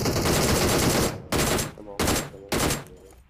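Sustained automatic gunfire in PUBG Mobile as suppressing fire, a long dense burst followed by three shorter bursts in steady rhythm, loud and close with no voices over it.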